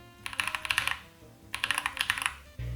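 Fingers type on a mechanical keyboard with tactile switches in two quick bursts of close, crisp key clacks, separated by a short pause, with no voice present.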